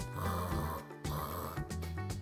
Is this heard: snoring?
yes